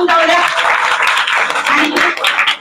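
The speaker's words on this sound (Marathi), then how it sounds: "आज सर्वांच्या माध्यमातून नाटा साहेबांसाठी एक जोरदार टाळ्या होऊन जाऊया" Audience applause at a birthday gathering of a community centre in CBD Sector-8, Navi Mumbai: dense, steady clapping from a crowd fills the whole moment loudly and close.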